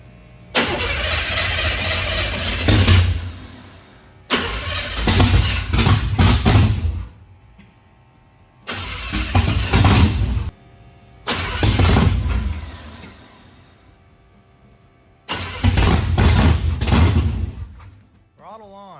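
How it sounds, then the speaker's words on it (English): The engine of a 1966 Chevelle cranks and catches several times, roaring up in loud revving bursts separated by short silences, close by, with voices talking around the attempts. "You want to hear it fire up?"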